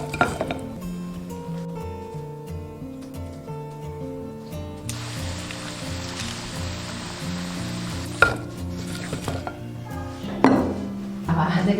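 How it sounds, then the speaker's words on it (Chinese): Su jiao pastries deep-fry in oil over medium-low heat, a soft, steady sizzle that swells partway through, punctuated by a few clinks of utensils against the pot, with music playing underneath. "中小火炸了10分钟左右，像这种表面金黄就可以了。"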